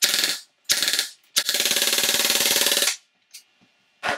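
A 3D-printed, fully automatic open-bolt airsoft gas blowback rifle with a spring setup fires two short bursts and then one longer full-auto string of rapid, loud, evenly spaced shots before cutting off, followed by a couple of faint clicks.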